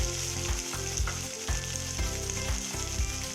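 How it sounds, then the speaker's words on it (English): Half a large diced onion fries in a pan for a chickpea curry, giving a steady, loud crackling sizzle with a low pulsing hum beneath it and no talk. "Next I add a 1/2 big onion diced."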